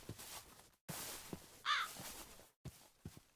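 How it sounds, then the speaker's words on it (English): A crow caws once, clear and fairly close, in a modded Minecraft world, heard over a soft ambient background broken by brief pauses and a few faint footstep-like taps. "I heard the crow, but I don't see him."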